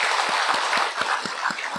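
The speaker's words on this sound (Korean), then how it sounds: "우리 하나님 앞에 영광의 박수 올려드리겠습니다." A congregation at a church service applauds, dense clapping from many hands with a regular beat roughly four times a second, filling the room steadily without talk.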